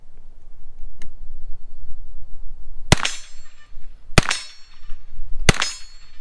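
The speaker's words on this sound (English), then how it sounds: "Go ahead and shoot off a couple more rounds" Three sharp, loud gunshots from a Bilson Arms forward-charging 9mm pistol ring out at roughly even intervals outdoors, each with a short echoing tail, after a faint earlier tick and quiet background rustle.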